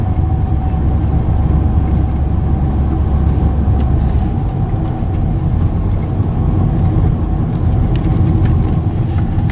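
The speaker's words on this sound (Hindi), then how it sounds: "ओहो, हर 100 मीटर पे रंबल स्ट्रिप।" A car on a self-drive highway trip rumbles steadily along the road, a loud continuous low drone of engine and tyres heard from inside the cabin, with no distinct rhythmic strip pulses standing out.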